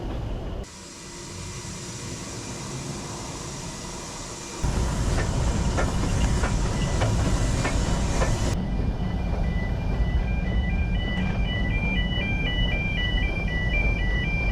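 A Welsh Highland Railway train rumbles past nearby through a town centre street with a steady rolling roar, while a level crossing bell or alarm rings in a repeating two-tone pattern.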